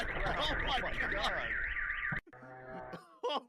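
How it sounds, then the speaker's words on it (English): Several car alarms blare together in a parking lot after a drone explosion, loud warbling sirens overlapping continuously before cutting out, followed by a brief steadier tone and a short final burst. "it set off every car alarm in that parking lot"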